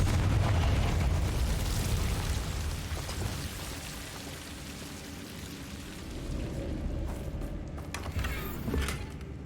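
A Confringo fire spell explodes in Hogwarts Legacy with a loud, sustained rumbling blast, its crackling roar fading midway and then swelling again near the end.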